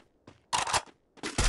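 Gunfire in the battle royale video game Free Fire, two short rapid bursts of shots close by, separated by a brief pause, with a faint click before the first.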